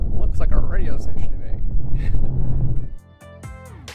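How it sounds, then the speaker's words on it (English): Outdoors, wind buffets the microphone as a heavy, low rumbling roar under a person talking, then drops away abruptly near the end. "It is windy out."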